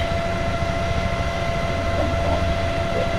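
A helicopter settling into a hover before takeoff, its engine and rotor making a loud, steady drone with a constant whine and no pause.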